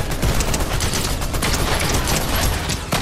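Dual SMG gunfire in Fortnite, a dense, continuous rattle of rapid automatic shots at a steady loud level throughout with no talking.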